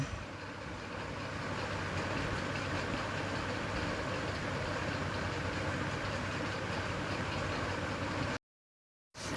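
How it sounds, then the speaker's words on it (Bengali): Pieces of palm-fruit batter sizzle in hot oil in a kadai, a dense, steady frying hiss that runs evenly for about eight seconds before cutting out briefly. "তেলটা গরম হয়ে গেছে। হয়ে যাওয়ার পর ওইগুলো আমি এক এক করে ছেড়ে দিলাম।"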